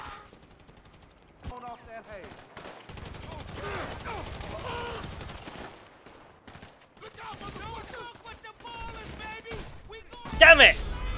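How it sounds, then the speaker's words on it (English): Gunfire in the GTA V video game, with bursts of rapid shots and heavier blasts near the end, heard beneath people talking excitedly. "I'm getting shot right in front."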